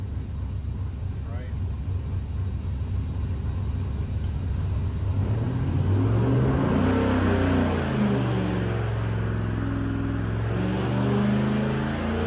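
An LS3 V8 engine at a high idle near 4,800 rpm, close and loud, starting as a low rumble before the revs climb and then hold at a steady, rising droning pitch.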